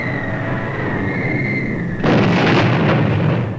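Archival bombing explosions from the Pearl Harbor attack: a whining, steady tone over rough noise suddenly gives way to a loud, sustained burst of blast noise that continues to the end.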